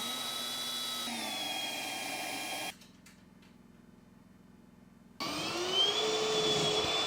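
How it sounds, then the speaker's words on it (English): A power drill bores out holes for bumper brackets on a new 2024 Ski-Doo Freeride snowmobile, whining steadily, dropping to a lower hum partway through, then rising again, close and loud. "let's drill out these holes and bolt up those brackets"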